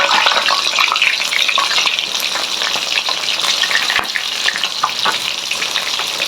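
Busnoy fish frying in hot oil in a pan, a loud, dense, continuous sizzle close up with no voices, holding steady throughout.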